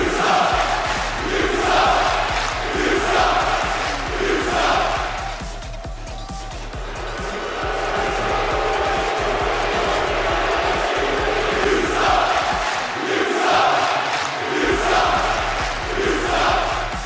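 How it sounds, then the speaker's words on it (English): Large arena crowd at the RLCS Rocket League World Championship cheering and roaring for a Texas welcome, a continuous loud swell with a brief dip midway before surging again. "Listen to the crowd."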